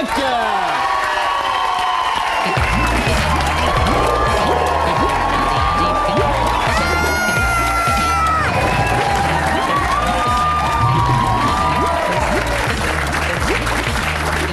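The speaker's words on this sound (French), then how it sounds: "Est-ce que tu entends les cris stridents de tes fans?" A loud studio audience greets TV guest Yvan Le Bolloc'h with sustained applause, cheering and shrill screams, a dense, continuous roar of clapping and shouting that fills the whole stretch.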